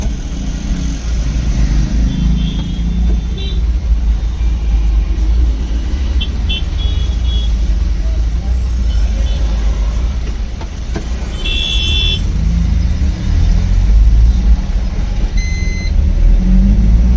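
A car running low on CNG drives toward a filling station; a steady, heavy engine and road rumble fills the cabin throughout, with a brief faint clink and no talking.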